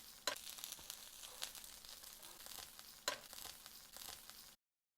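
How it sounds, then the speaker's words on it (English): Burger buns toasting in a hot pan for veggie bean burgers, a soft steady sizzle with a couple of brief sharp crackles, faint and close, with no talking, ending abruptly. "Now, lightly grill the buns."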